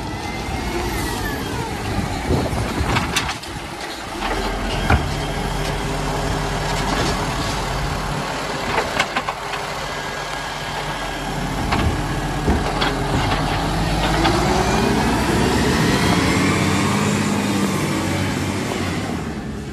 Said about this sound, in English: And there's just a garbage truck coming down.